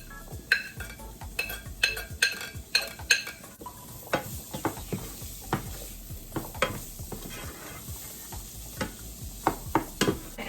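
Ginger and scallion go into a sizzling pan for a Jamaican-style coconut curry, with a rapid run of metallic utensil taps and scrapes over a soft constant sizzle, close by and without talk.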